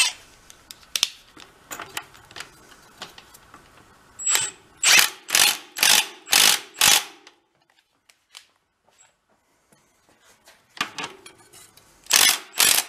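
Tightening the other side of a 46-year-old VeloSolex moped with a power tool, heard as a close, loud run of regular buzzing bursts. Quieter mechanical handling and pauses sit between the bursts.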